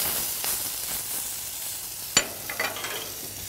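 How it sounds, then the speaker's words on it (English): Quail breast gently frying in a pan, a steady soft sizzle with a sharp clink and a few brief spits near the end. "While the quail's cooking,"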